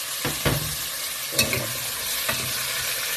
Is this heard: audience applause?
no